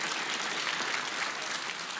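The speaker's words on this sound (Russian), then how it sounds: "аплодисменты" A studio audience claps in steady, dense applause, a continuous wash of many hands at even loudness for a couple of seconds with no voices on top.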